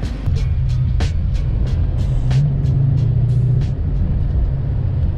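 Dodge Charger driving along a road, a steady low engine and tyre rumble filling the whole stretch with a brief rising drone in the middle, heard close from inside the car with no talking.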